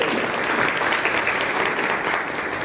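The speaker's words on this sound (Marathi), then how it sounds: "आणि मग भाभीसाठी सुद्धा एकदा जोरदार टाळ्या वाजवतो" A crowd at an event honouring winning municipal election candidates claps loudly and steadily, a dense, sustained roar of applause with no voices over it.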